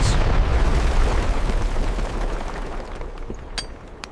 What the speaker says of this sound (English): crews used carefully placed explosives to break through the mountains